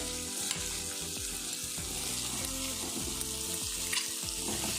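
Chopped gooseberries hit a hot pan for a Tamil-style gooseberry pickle, setting off a steady, close sizzle of frying with the scrape of stirring running through it. No voices.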